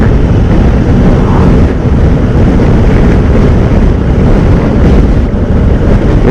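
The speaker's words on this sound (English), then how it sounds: "But the waves can get pretty gnarly." Ocean waves at a Nova Scotia beach on a sunny day roar in a steady, loud wash, heavily buffeted by wind rumbling across the microphone, with no talking.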